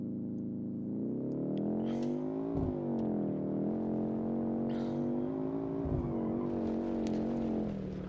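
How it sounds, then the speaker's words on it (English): A Hirochi SBR4 base model sports car in BeamNG.drive pulls away hard from a brake-torque launch, its engine revving loud and close through rising pitch sweeps with gear-change dips, alone without talk. "put the car in drive, brake torque it a little bit. 3, 2, 1, and away we go"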